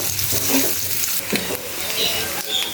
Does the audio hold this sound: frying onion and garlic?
yes